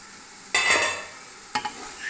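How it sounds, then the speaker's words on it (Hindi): Bong meat with turmeric fried in a pot for a Lahore-style curry: quiet background sizzle broken by two sharp bursts of stirring and scraping, close and brief. "अच्छी तरह इसकी भुनाई करनी है।"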